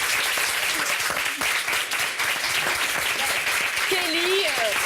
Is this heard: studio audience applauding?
yes